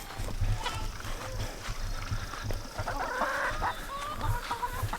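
Free-range backyard hens cluck and murmur close by on a homestead lawn, with repeated low clucks and a brief higher call, no talking.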